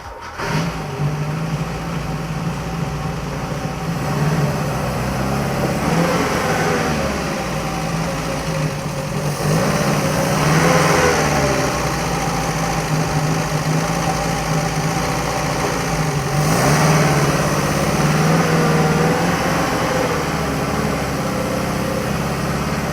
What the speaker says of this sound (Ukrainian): Зараз ми тросик газу під'єднаємо, щоб можна було газувати, хоч трошки газку дати.